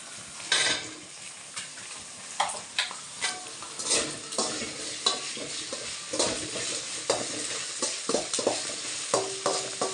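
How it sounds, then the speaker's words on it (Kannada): Chopped ridge gourd frying in a little oil over a low flame, a soft steady sizzle punctuated by frequent clinks and scrapes of a spoon stirring against the pan, close and fairly quiet with no talking. "ಸ್ವಲ್ಪ ಹಾಕಿದ್ವಲ್ಲ, ಫ್ರೈ ಮಾಡಿ ಕಡಿಮೆ ಉರಿಯಲ್ಲೇ ಫ್ರೈ ಆಗಬೇಕದು"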